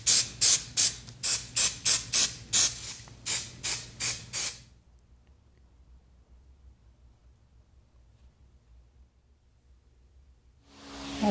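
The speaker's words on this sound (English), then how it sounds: "after a couple good coats of our spray 90" Around a dozen short, sharp aerosol spray bursts of high-strength spray adhesive in quick rhythm, close by, followed by several seconds of near silence.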